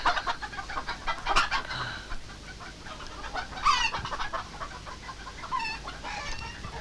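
Chickens clucking near a shop, with repeated short clucks and squawks in a busy, overlapping farmyard chorus and a sharper call standing out midway.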